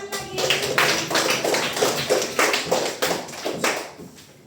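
Hands clapping in a burst of applause from a small group, sharp overlapping claps with an uneven rhythm that fade out toward the end.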